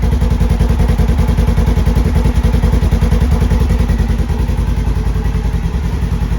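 A turbocharged Polaris General XP side-by-side engine idling close by near the back wheel, a loud, even, rapid chugging pulse that holds steady throughout with no voices.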